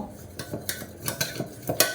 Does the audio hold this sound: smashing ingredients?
yes